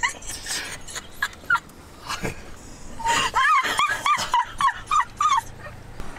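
Puppies beside a mountain road whimper and yip in a quick run of high, rising squeals, close and loud, after some muffled rustling and brief human voices.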